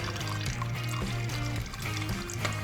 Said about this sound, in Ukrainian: зараз витікає масло і будемо його заливати нове